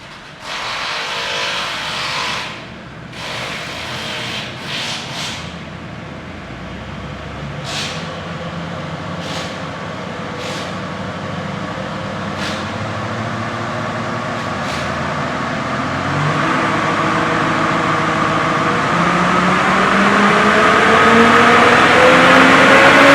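A car engine revs hard and climbs through the gears on a run, its pitch rising with each gear and dropping at the shifts, then building louder toward the end; steady and close, with no talking.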